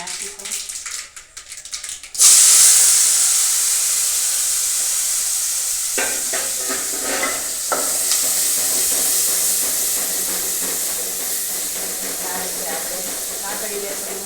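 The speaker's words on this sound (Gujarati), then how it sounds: "રાઈ જીરું તકડી હવે આપણે ડુંગળી નાખીશું." Onion dropped into hot oil with tempered mustard seeds and cumin for masala Maggi, bursting into a loud, steady sizzle that stays dense and hissing throughout, after a quieter opening moment.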